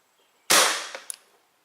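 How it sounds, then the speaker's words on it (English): A Crosman 600 CO2 air pistol fires a single sharp, loud crack that decays quickly, followed by a faint click and a brief pellet impact tick, alone against silence. "Just going to finish back up and finish off one quick shot in"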